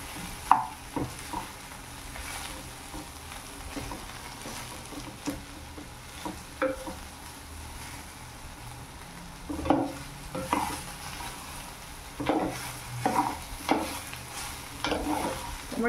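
Okra (bhendi) sautés in a hot pan over a fairly high flame, darkening as it cooks. A spatula gives irregular scraping, stirring knocks over a soft, steady sizzle, with stronger bursts of stirring toward the end.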